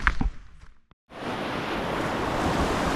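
Sea surf washing onto the long, calm shoreline of Ambolgad beach near Rajapur on the Konkan coast, a steady broadband roar of waves with wind noise on the microphone, following a brief near-silent gap.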